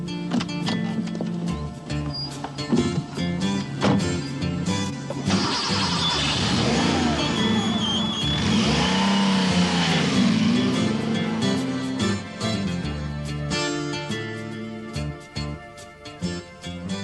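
A 1989 Porsche 959 engine starts and revs, then pulls away accelerating with rising and falling engine tone, a steady loud roar heard alone throughout.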